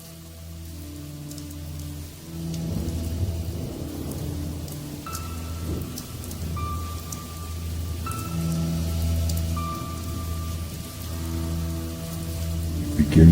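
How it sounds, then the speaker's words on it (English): Rain falling in the woods with rolling thunder, a steady hiss of drops on surfaces beneath low, sustained rumbles that swell and fade several times. "It begins to rain"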